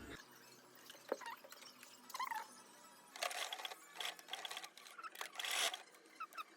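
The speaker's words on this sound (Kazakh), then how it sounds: "Сол үшін мынаны тартып отырып сөйтіп тігемін." A sewing machine stitches stretchy elastic onto leggings fabric in several short, fairly quiet bursts of whirring, separated by pauses and faint handling noises. No one speaks.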